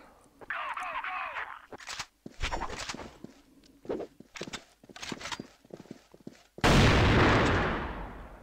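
Gunfire and action in the video game CrossFire during a tournament match with AWM sniper rifles, sharp shots and clattering footsteps under a commentator's voice, ending in a loud burst of noise.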